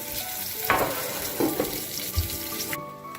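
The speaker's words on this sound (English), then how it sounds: "you're going to add it to this. Right on top. Right on top. Let that saute." Food sautés in a pan as a busy sizzle with a few louder clatters and stirring knocks, then cuts off abruptly near the end.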